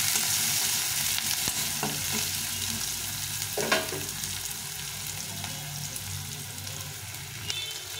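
Chopped onion sizzles steadily in hot oil with cumin seeds in a pan while a utensil stirs and scrapes at intervals, a continuous close frying hiss with occasional sharper clinks, no voices.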